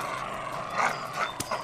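Cartoon dogs bark and yip in a few short bursts, fairly close, over a busy background.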